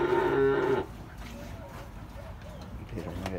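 Dairy cows kept with their calves at a livestock sale in Jocoro give one loud, close moo at the start, then low farmyard shuffling and faint voices follow.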